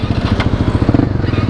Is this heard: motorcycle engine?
yes